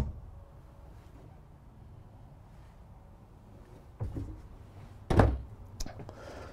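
A quiet room inside a 2019 Forest River Sunseeker 2400R motorhome, then a soft thunk followed by a louder wooden knock as a drawer is pushed shut, with a small rattle after.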